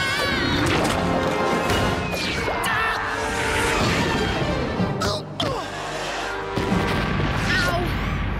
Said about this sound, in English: Cage smashing can be really tough on the teeth.